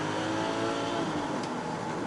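A BMW X5 xDrive 45e plug-in hybrid SUV's engine revs, heard as a sustained, steady drone from inside the car without a clear rise or fall.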